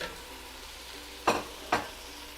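Caramelized onions frying in a pan for lamb curry, a steady soft sizzle broken by two sharp splashy bursts as tomatoes drop in and hiss, close and without talk.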